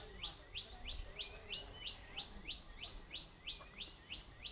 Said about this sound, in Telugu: పిట్టల సప్పుడు వినబడుతుందా? P P P P P అంటుంది.